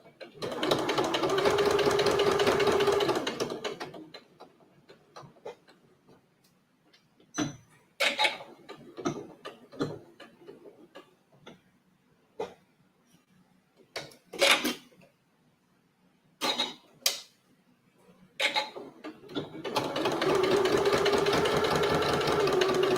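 A domestic sewing machine stitching Italian leather: a loud, fast run of needle chatter, then a stretch of scattered clicks and handling knocks as the work is turned, then another steady burst, with a voice talking in between.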